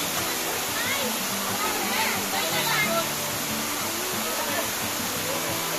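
Bailan waterfall in Mambusao, Capiz, in the Philippines, pours in a steady, unbroken rushing roar that fills the whole scene, with human voices faintly mixed underneath.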